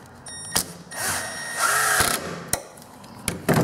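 A power driver sends screws into a wooden bracket for a simple roof over a door, its motor whining in several short, close bursts separated by sharp clicks and pauses.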